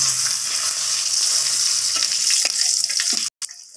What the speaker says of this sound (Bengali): আর দিয়ে দেব দুটো ফাটানো শুকনো লঙ্কা। এরপর ফোড়নটাকে একটু ভাজা ভাজা করে নেব